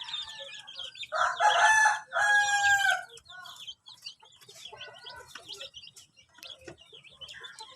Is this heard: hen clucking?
yes